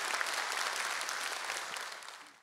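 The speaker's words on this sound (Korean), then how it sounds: "자연스럽게 박수가 나오는군요." An audience at an agricultural knowledge-sharing concert breaks into spontaneous applause that stays steady, fairly distant and soft, then fades away.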